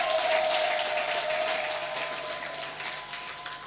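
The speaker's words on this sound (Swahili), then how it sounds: "Pigia Yesu makofi mazuri kabisa" A church congregation claps together for Jesus during a sermon, a dense, steady wash of many hands applauding that fades slightly toward the end, with no talk over it.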